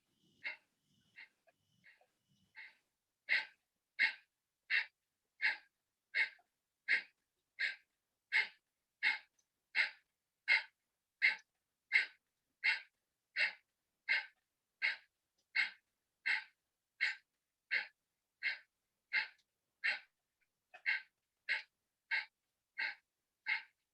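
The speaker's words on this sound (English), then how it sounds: "You're not breathing in, you're breathing out." Forceful pranayama exhalations through the nose, a long run of rapid, evenly spaced sharp bursts of breath, close and fairly loud, starting with a few irregular puffs before settling into a steady rhythm.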